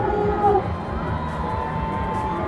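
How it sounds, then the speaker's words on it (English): A hometown parade crowd in McAllen cheers for Cristela Alonso, a dense wash of shouting and whoops that includes children's voices, steady and moderately loud from start to finish. "And the crowd is just absolutely loving her."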